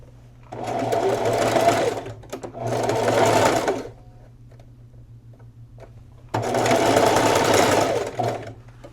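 A sewing machine stitches a seam across crochet blanket fabric being made into pants, running in three steady bursts of close, loud motor whir with quiet pauses between.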